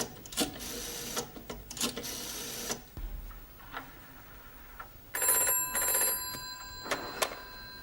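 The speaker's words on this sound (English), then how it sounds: "I go and phone hospital to see how is Mr. Brown." An old telephone is dialled in a sitcom scene: repeated mechanical whirring and clicking bursts from the rotary dial, followed by a sharp electronic ringing tone from the line, close and clear with no talking.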